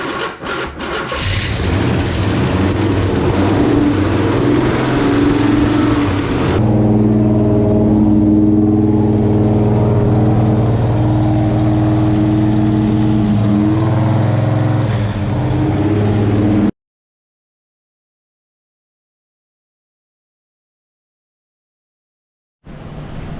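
A 427 engine cranks and starts during break-in, then revs and settles into a loud, close, rough idle. It cuts off abruptly, there is a long silence, and then it restarts.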